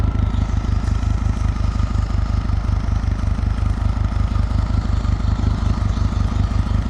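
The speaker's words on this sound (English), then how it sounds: "Let's give some time for the W800 to warm up." A Kawasaki W800 motorcycle idles while warming up, its engine thumping out a loud, close, regular low-pitched beat with a faint mechanical clatter riding on top, steady for several seconds.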